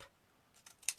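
Scissors give a couple of quick, faint snips through a small ribbon scrap near the end of an otherwise quiet moment.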